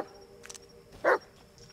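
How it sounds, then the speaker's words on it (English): A dog in the Blair Witch video game gives one short, sharp bark, preceded by faint soft yips and small movement sounds, otherwise quiet. "What are you barking at?"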